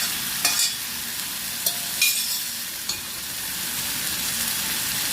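Cooked horse gram being stirred in a pan, with a low steady sizzle under a few short scraping strokes of a spoon, close and moderately loud, no talking.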